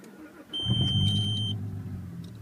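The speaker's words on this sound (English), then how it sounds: "you got to take your foot, hold it down the clutch, turn the key" A manual car's engine is started with the key while the clutch is held down: brief electronic chimes sound, then the engine catches about half a second in and settles into a low, steady idle rumble, fairly quiet and close.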